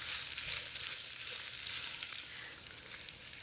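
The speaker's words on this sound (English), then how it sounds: "Give it a quick stir and let it cook for about 9 to 10 minutes so we get some color and some browning." Vegetables fry and brown in a pan, a steady close crackling sizzle that holds even throughout with no voices, fading only slightly toward the end.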